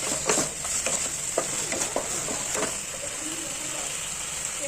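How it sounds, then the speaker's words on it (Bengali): Red chili paste frying in a pan for a Bengali dish while a spatula stirs it: irregular close scrapes and knocks over a steady hiss of sizzling oil, with a faint voice now and then. "সেই লঙ্কা বাটা দেওয়ার পরও আবার ভালো করে কষাতে হবে।"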